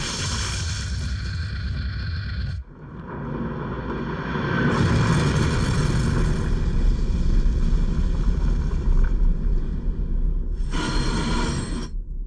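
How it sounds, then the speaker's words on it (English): A big helicopter landing sequence built as a layered sound effect: loud, dense rotor-and-engine roar with a heavy low rumble, a sudden drop near the third second, then a swelling wash of noise and a bright burst toward the end. "there's a big helicopter landing sequence"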